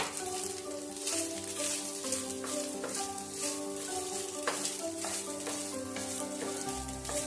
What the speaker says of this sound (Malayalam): എന്നിട്ട് ചോറും എല്ലാം കൂടെ നന്നായിട്ട് നമുക്ക് ഇളക്കിയെടുക്കാം